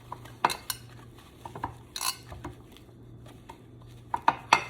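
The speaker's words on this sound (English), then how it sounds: "what I'm going to do right now is I'm just going to butter my pan" A utensil scrapes and taps against a baking pan as it is buttered, making scattered light clinks and scrapes over a low hum, with no talking.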